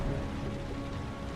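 Rain in the video game Heavy Rain: a dense, even downpour with no breaks, heavy low rumble and spatter and no voices during this short stretch.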